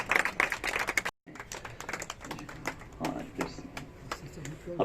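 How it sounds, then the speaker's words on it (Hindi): An audience at a Women's Day charity trust event applauds with steady dense clapping, with a brief cut near the start and a voice faintly over it. "तालियां बजती रहें"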